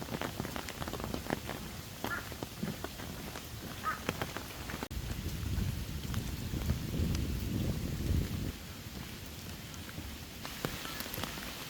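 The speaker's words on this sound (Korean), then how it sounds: "잠시 비 소리를 들으며 감상해 보시지요" Rain falls steadily on a wooden deck trail in a forest, a dense patter with a heavier rumbling stretch midway, occasional drips and light wind noise.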